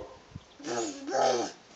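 A small boy imitates a bear with his voice, giving two short, rising growls close to the listener, with no speech over them.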